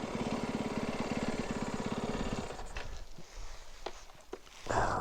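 A snowbike engine runs with a steady rhythmic chug for the first half, then cuts down to quieter rumbles and scattered knocks in a snowy backcountry setting near a cabin.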